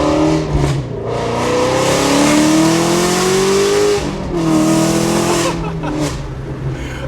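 A Shelby GT350 engine revs hard nearby, pitch climbing through gears with brief drops between shifts, loud and roaring throughout.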